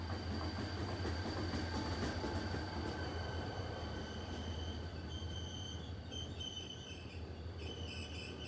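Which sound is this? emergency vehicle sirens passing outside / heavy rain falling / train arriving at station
train arriving at station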